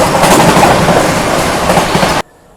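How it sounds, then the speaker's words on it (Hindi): Tamil Nadu Express departing on a parallel track in India, loud, close rumble and clickety-clack of rolling coaches that cuts off abruptly. "पैरेलल में डिपार्ट होती है अपनी तमिलनाडु एक्सप्रेस"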